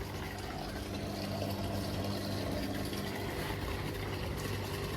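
Water gushes steadily from a coin-operated water ATM, a dense, continuous rushing flow at even loudness for the whole stretch, close by and without talk.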